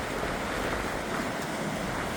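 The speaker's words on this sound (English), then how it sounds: "There's a big sea on." Rough, heavy sea surging against the coast a few hours before high tide, a continuous dense roar of breaking waves with wind buffeting the microphone, steady and loud with no pauses.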